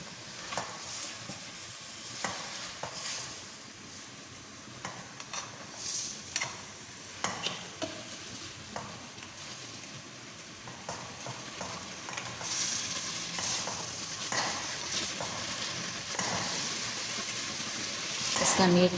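Garlic sizzles while frying for beef mandi, with steady crackle and stirring clatter throughout, moderately loud, under occasional quiet talk.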